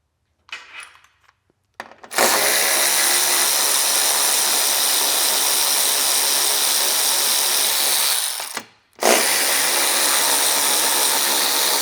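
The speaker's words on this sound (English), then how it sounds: "We're going to start by removing the 10mm bolts." A power tool spins out 10mm bolts from the radiator plate of an S550 Ford Mustang, a loud continuous whir running for about six seconds, then a brief stop and a second burst, close up.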